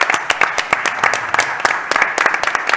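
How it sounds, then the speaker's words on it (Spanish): Applause from a modest audience closing an entrepreneurship talk, a sparse crowd whose individual claps stand out as sharp, uneven strikes over a light background of clapping, close and fairly loud. "Otro aplauso."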